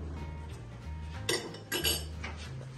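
Metal pot lids clink and clatter as someone rummages through kitchen cookware, two sharp bright bursts of clanking over quiet background music, close by.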